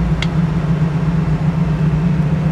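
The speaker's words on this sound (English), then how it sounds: "exhaust sounds awesome. It's got a real nice deep sound, nice rumble, sounds like a nice muscle car." A 1967 Chevrolet Camaro SS exhaust gives a steady, deep low rumble, close and continuous over a couple of seconds.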